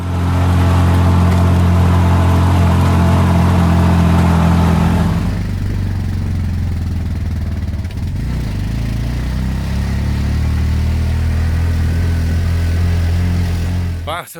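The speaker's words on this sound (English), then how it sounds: "decided to share a tuk-tuk up the steep hills so we can cut down the cost" Tuk-tuk climbing steep hill roads near Lake Atitlan, Guatemala: a loud, steady mid-pitched motor drone with a deep hum throughout, easing slightly after a few seconds and then holding, with passengers' voices faintly underneath.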